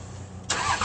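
A truck engine starts: a short quiet lead-in, then a sudden loud catch that holds as a steady running roar for the rest of the brief moment.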